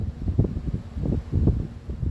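Gusty outdoor wind in a parking lot buffets the microphone in low rumbling pulses, with a faint high hum in the background.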